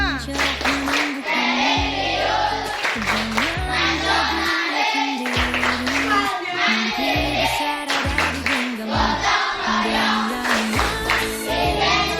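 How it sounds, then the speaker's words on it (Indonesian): Schoolchildren perform the Tepuk PPK clapping routine, a fast patterned sequence of hand claps in rhythm over about twelve seconds, mixed with loud chanting voices and a strong steady beat, busy and close. "Tepuk PPK."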